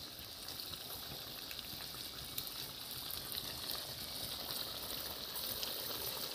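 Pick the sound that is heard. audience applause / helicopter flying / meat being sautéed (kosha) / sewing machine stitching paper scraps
meat being sautéed (kosha)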